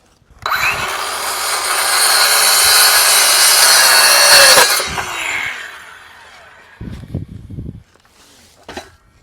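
A saw cutting and trimming the coping of a skate ramp: a loud, harsh power-tool cutting roar lasting several seconds and winding down, followed by a few short scraping and knocking sounds.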